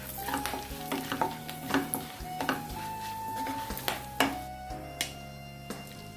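Whole garam masala, cinnamon, bay leaf, black pepper and cumin frying in hot oil for paneer masala, a crackling sizzle punctuated by irregular sharp pops and spoon clinks as the spices are stirred; no talking.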